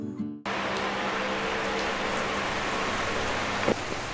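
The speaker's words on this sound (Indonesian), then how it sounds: "Hujan turun deras" Heavy rain pouring steadily in a dense, continuous close hiss, starting abruptly after a brief moment of quiet, with no voices.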